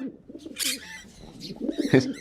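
A pigeon coos in a TV drama scene, a soft, throaty, rolling call repeated a few times close by, with no one speaking over it.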